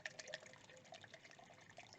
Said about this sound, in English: Filling up my water.